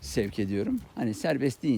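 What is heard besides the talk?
No everyday noise stands out behind the speech.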